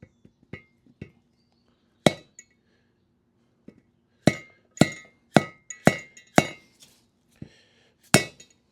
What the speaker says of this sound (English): Okay, bearing going in.